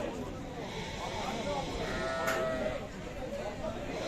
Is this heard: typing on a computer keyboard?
no